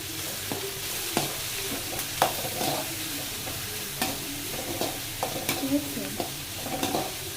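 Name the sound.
chopped onions sautéing in a pan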